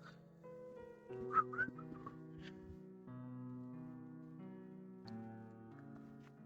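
A person whistles a soft melodic tune while walking toward a well, with steady sustained tones beneath, and a few brighter whistled notes standing out briefly.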